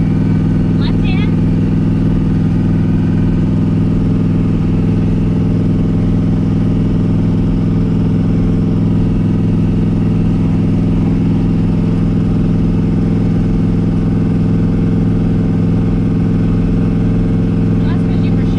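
Turbocharged LSX-swapped Mazda RX-7 with a Powerglide transmission drones steadily from inside the cabin, a constant low engine hum that barely changes pitch across the run, with faint clatter near the start and end.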